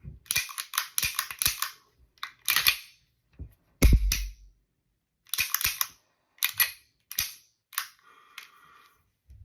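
Beretta 92 pistol with a new decocker, G conversion and Wilson trigger kit, snapping back up repeatedly: a series of sharp, close metallic clicks and clacks in irregular bursts, with one heavier thump midway.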